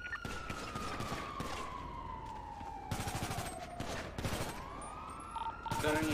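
Rapid video-game gunfire crackles through a police shootout at a block and courthouse, with bursts of automatic shots layered over a wailing siren that sweeps downward; near and loud throughout, with brief pauses between volleys.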